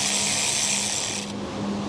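Ratchet wrench loosening a hidden bolt on a crashed 2009 Porsche Cayman, a steady close buzzing rasp that stops abruptly near the end.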